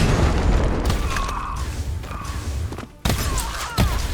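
Grenade blasts in the video game Pax Autocratica, several dull booming thuds spread through a busy, loud combat mix, with a brief drop in the noise before the booms resume.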